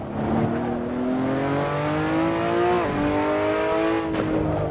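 Toyota Supra Super GT500 race car at the Nürburgring in Assetto Corsa, its engine note climbing steadily through a gear, then a quick shift dip and renewed pull, loud and close with no talk.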